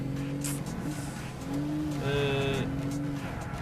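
A Lancia Delta engine in the racing game Gran Turismo 6 hums steadily, then revs briefly higher midway with a hint of tire squeal before settling back to a steady drone.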